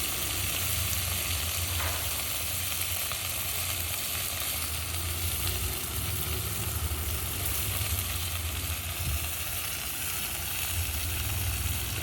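Onions frying in a pan for a roti pachadi, a steady, dense sizzle that hisses evenly and closely throughout, with no voices.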